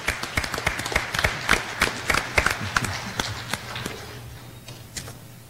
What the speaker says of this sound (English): one more recognition and round of applause for our band